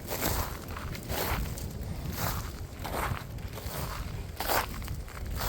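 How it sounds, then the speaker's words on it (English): Footsteps crunch through frozen grass in a steady walking rhythm, each step a crisp, brittle crackle close by, with no voices. "That crunchy sound you hear is me walking through this grass."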